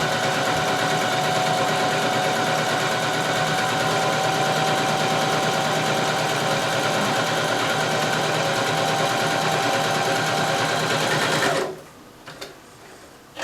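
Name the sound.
sewing machine stitching fabric with a gathering foot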